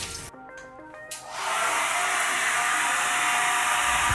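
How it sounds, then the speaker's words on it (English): A handheld hair dryer starts up after a short pause and blows steadily and loudly to dry wet, slightly smelly items, a continuous even whoosh close to the mic. "So I'm gonna try now with the hairdryer."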